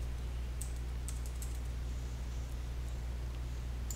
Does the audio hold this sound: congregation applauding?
no